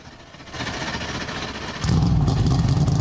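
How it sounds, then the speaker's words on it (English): NASCAR Cup Series car engines start up at the 2024 Grant Park 165 Chicago street race: a mixed crowd roar gives way to a sudden, loud, sustained low engine rumble from many cars together. "Drivers, start your engines."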